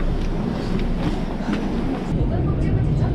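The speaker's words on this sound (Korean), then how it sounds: "어, 왔다 지하철" Subway train pulling into a Korean metro station, a loud continuous rumble and rattle of rolling carriages with people talking over it in a busy station.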